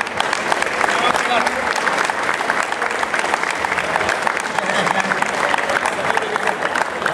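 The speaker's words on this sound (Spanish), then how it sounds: "Para quien pide un fuerte aplauso." Crowd at a marathon event applauding, a dense, steady wash of clapping heard throughout, with a voice talking over it.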